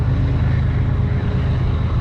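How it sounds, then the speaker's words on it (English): A train passes close by, filling the clip with a loud, continuous low rumble and a steady mechanical drone with no break. "Oh, it's a train right there."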